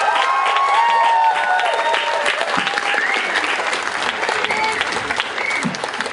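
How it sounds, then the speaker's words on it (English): Crowd applause at Exeter Pride, a loud, sustained outdoor clapping from a large gathering that holds steady throughout, with faint cheers and scattered voices underneath. "Big round of applause."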